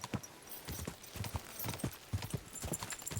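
Horse hooves galloping in the video game Kingdom Come Deliverance 2, a steady rapid clip-clop of repeated strikes, fairly close, with a faint whinny and no talk over it.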